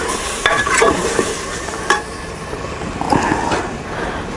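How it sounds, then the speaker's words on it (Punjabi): Spices for kala chana curry sizzle in hot oil in a pan while a spoon scrapes and stirs them, giving a steady close frying hiss broken by several sharp stirring knocks. "ਮੈਂ ਇਹਨਾਂ ਥੋੜ੍ਹਾ ਅੰਦਰ ਪੱਕਣ ਦੇਵਾਂਗਾ ਮਸਾਲੇ ਨੂੰ"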